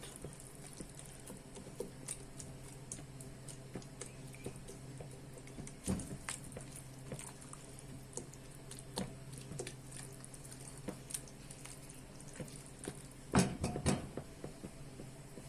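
Tuna pasta is stirred in a pan, giving soft, irregular wet squishes and pats at an uneven rhythm over a faint background hum, with a sharper burst of scraping near the end.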